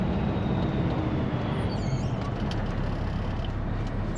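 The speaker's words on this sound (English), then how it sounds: "Oh, even in the lower revs, this truck sounds awesome" A Scania 143 500 V8 truck engine idles at low revs, heard from the cab as a steady, loud, deep rumble that continues without a break.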